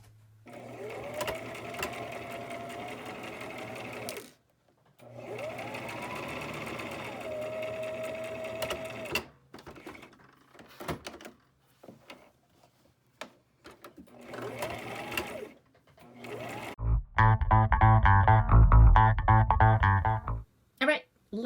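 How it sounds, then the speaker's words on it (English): A sewing machine runs a straight stitch along a donut pillow seam in several bursts of whirring, rapid stitching separated by pauses, close and clear, ending with a louder harsh stretch. "We're just gonna do a straight stitch from this end to this end."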